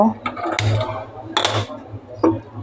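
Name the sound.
setting the wok on the gas stove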